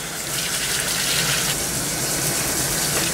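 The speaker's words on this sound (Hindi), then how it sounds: "जिस टाइम असा पास्ता छानना ही है उस टाइम इसने पर असा ठंडा पानी खोलना है" Cold water from a kitchen tap gushes steadily over freshly drained pasta in a colander, a loud, close, continuous splashing rush with no voices.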